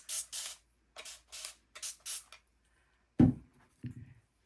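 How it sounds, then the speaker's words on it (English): Five quick hissing bursts of a spray bottle misting water onto matte medium on photo paper, close by, followed by a couple of soft knocks as it is set down. "I'll spray this with water."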